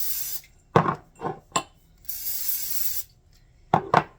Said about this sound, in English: you're going to want to spray the inside of the jar so that nothing sticks.